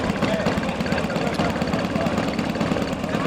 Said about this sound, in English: it looks like a guy who's got his engine running on a Pawnee